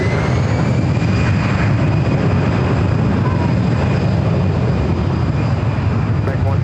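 A jet taking off from runway 24 left at LAX, a steady loud broadband engine roar holding throughout, with radio voice chatter from air traffic control over it.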